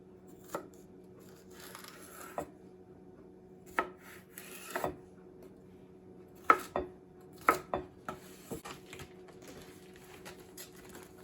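A knife chopping cucumber into quarters on a board: sparse, sharp, close taps at irregular intervals over a quiet background with a faint hum, no speech.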